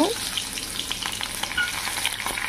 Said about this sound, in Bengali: তো প্রথমে আমি পেঁয়াজগুলি ভেজে নেব।